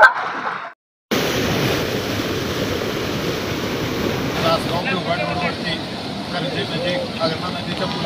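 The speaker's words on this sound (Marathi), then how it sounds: "आगरणा नदीच्या पुलावरती पाण्याचा प्रवाह भरपूर वाढलेला आहे" Floodwater of the Agrani river rushes over a bridge in a loud, continuous roar, buffeted by wind noise on the microphone, after a brief cut near the start; someone talks over it.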